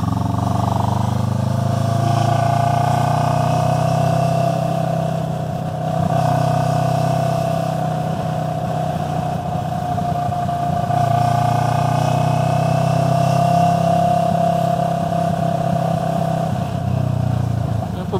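A big bike motorcycle cruising along an open highway, its engine a steady loud drone with wind roar, holding a constant pace with slight swells in revs throughout.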